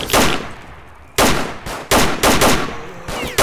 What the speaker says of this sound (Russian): Дигл! Это по звуку дигл!